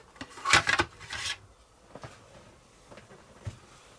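Short, close raspy strokes of sanding on parts of a Tamiya 1/12 Porsche 934 model kit, a quick cluster of scrapes followed by faint scattered handling noises.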